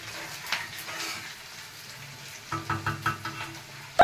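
Onions fry in a pan on a gas stove with a soft, steady sizzle, broken by a few light knocks and a sharper clatter at the end.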